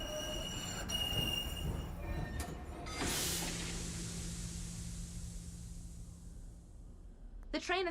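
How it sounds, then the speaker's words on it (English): A train in the Murder in the Alps video game rumbles to a halt at a station. Its wheels squeal, a burst of hissing follows midway, and the rolling noise fades to a low hum. "The train has stopped."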